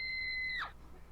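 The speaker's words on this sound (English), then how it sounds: "A terrible scream." A woman's jump-scare scream in the horror game Scar of the Doll, a shrill sustained cry holding for about half a second before sliding sharply downward and cutting off, over quiet background noise.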